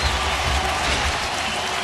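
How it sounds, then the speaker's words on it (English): A baseball stadium crowd, on its feet late in the bottom of the ninth, cheers and applauds in a dense, continuous wash of sound throughout. "So the crowd on its feet."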